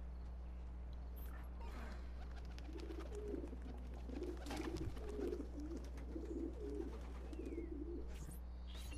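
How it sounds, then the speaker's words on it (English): Pigeons coo softly in a low, repeated rhythmic burble at a coop in the Assassin's Creed video game, the calls steady over a constant low hum. "So there's a pigeon coop."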